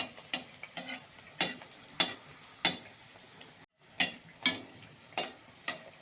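Puris fry in hot oil as sweet deep-fried bread, a soft steady sizzle broken by regular close scraping strokes and ladle taps, with no talking.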